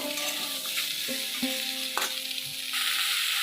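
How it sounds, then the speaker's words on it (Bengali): Vegetables (taro, yardlong beans) sautéing with spices in a pan for a fish curry, a steady close sizzle with a few scraping stirs of the spoon, no talking. "সবজিগুলোকে কষে নেব"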